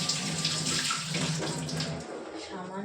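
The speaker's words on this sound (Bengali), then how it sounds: "সামান্য পরিমাণে জল দেব, সামান্য পরিমাণে, কারণ বেগুনে জল ছাড়বে।" Water splashing steadily into a pan of mixed eggplant as a small amount is added before cooking, a continuous close pouring hiss with faint voices in the background.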